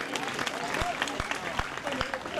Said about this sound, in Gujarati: અમને બધાને તાળીથી બતાવો.